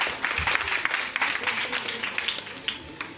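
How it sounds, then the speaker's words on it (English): Audience applause at a live eviction show for a Sierra Leone movie star contest, a dense crowd clapping with scattered sharper claps, steady and moderately loud, with some talk mixed in. "Round of applause."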